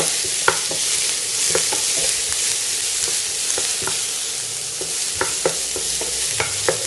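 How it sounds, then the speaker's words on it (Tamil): Onions for potato bonda sauté in a pan with a steady close sizzle, while a spoon stirs them in scattered scraping clicks. No one speaks. "வெங்காயம் பச்சை வாடை போகிற அளவுக்கு வதங்கினா போதும்."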